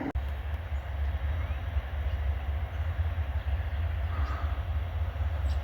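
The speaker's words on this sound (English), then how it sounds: "we got the train that was repairing the railroad track" A railroad maintenance train hauling gondolas of wood rolls past on BNSF track, giving a steady, loud, low rumble with a continuous rolling roar and no talk throughout.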